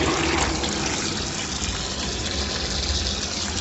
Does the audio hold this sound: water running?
yes